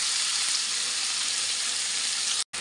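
Potatoes sizzling in hot oil in a pan, a steady loud bright frying hiss that runs unbroken and then cuts out briefly near the end.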